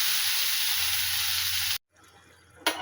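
Fried mixed vegetables hiss in a loud, steady sizzle as water goes onto them, then the sound cuts off abruptly and a quieter simmer follows before a brief splash-like burst near the end.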